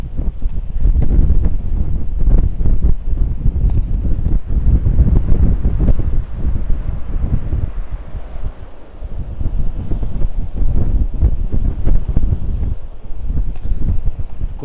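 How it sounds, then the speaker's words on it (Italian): Strong wind on a lakeside cycle path at Limone sul Garda, Italy, roars and buffets the microphone in heavy continuous gusts, with no talking. "qua c'è anche un vento molto molto forte"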